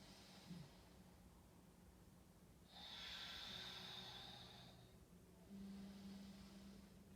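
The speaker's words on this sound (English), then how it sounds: "Ujjayi breathing." Slow, faint ujjayi breathing during a quiet yoga stretch for the hips and lumbar spine: a long, soft hissing breath in the middle, followed by another lower breath near the end, in a near-silent room.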